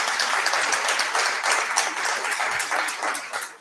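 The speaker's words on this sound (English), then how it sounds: "please, round of applause for Pyramid Books" Audience applause at an evening event with Rickey Smiley, honoring Pyramid Books: dense, steady clapping from a crowd that fills the clip at even loudness before tapering slightly at the end.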